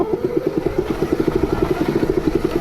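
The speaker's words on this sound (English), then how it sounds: "Sounds like the chain guides got out of whack" A rapid, rhythmic mechanical rattling clatters steadily and fairly close, a loose chain slapping against misaligned chain guides on a moving 72V electric pit bike.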